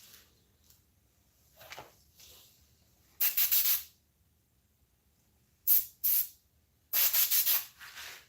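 An airbrush sprays paint onto a prop head in short hissing bursts, three or four separate blasts with quiet gaps between them, close and fairly loud.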